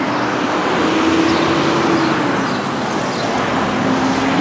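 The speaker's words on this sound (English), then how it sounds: "I can hear all the traffic around me, as you can see." Street traffic rumbles nearby, including a big truck, as a steady broad roar of passing vehicles with a low engine drone holding throughout and no speech.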